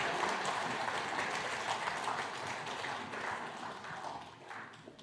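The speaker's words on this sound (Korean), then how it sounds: "예, 박수 부탁합니다" A church congregation applauds after a child's baptism during a Sunday service, a soft steady patter of many hands, fairly distant and fading slightly toward the end.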